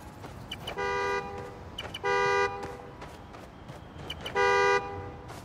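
A car horn sounded by key fob in the Spider-Man: Miles Morales video game gives three separate bright, sustained honks about a second apart. The honks sound over faint ambient game noise.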